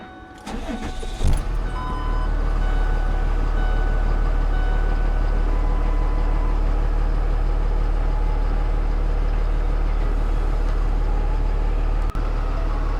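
A truck engine cranks briefly and catches, then settles into a steady, loud low-pitched idle that runs unchanged for over ten seconds, with a small click near the end.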